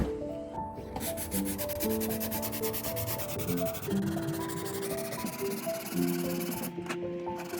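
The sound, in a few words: hand sanding furniture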